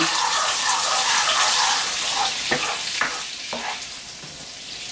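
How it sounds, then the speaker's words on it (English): A gnocchi sauce sizzles steadily in a pan while a utensil stirs it, with a few sharp scraping clicks near the end. The sound is close and fairly loud, with no talking. "we're going to come in here and give this a little stir"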